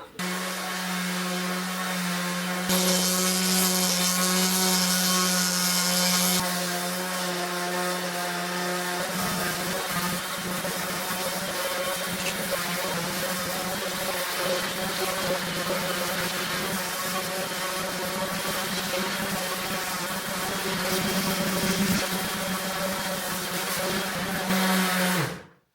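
A power sander works wood during a kitchen renovation, giving a steady close droning whine with a sustained buzzing hum that holds almost unbroken and shifts slightly in pitch as the tool moves, with no one speaking.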